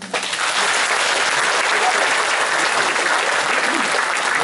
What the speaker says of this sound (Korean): 오늘 박구원 사장님 감사합니다. 고맙게 생각하고 박수 한번